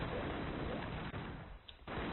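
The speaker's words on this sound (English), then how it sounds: "he just has a normal machine gun" Steady machine gun fire from Rambro in the Broforce video game, a dense continuous burst of gunfire and explosions that fills the whole moment without pause, loud and close, with no talk over it.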